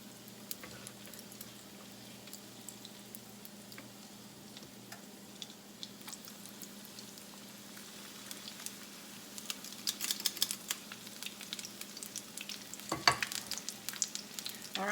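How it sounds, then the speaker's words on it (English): Apple fritters fry in hot oil with a steady, soft sizzle and scattered crackles that grow louder and busier toward the end, with a sharper pop late on. "let them fry until they dark brown, and then we'll turn them on the other side"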